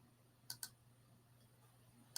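Two quick computer mouse clicks close together, then a third click a moment later, crisp and faint against a quiet room hum.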